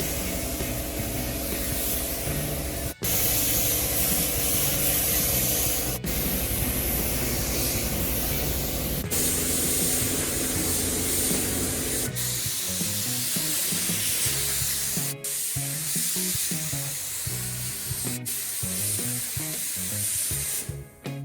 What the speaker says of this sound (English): The white base coat was sprayed on the inside of the trunk lid, fenders, doors, and the hood.